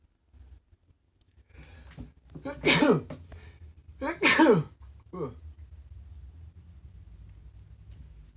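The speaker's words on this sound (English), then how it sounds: "This guy made me sneeze." A person sneezes twice nearby, sharp bursts with a quick intake of breath, against a quiet low hum.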